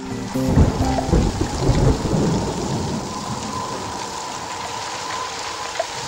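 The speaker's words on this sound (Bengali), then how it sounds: "ঝমঝম করে বৃষ্টি পড়ছিল।" Heavy rain pours down in a dense, steady hiss while loud rumbles of thunder roll through the first few seconds, then fade into the constant downpour with no voices present.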